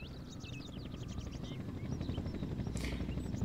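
A helicopter in the video game S.W.I.N.E. arrives to carry a tank, its steady rotor drone rumbling low and continuous and growing slightly louder, with chirpy bird-like calls scattered above it.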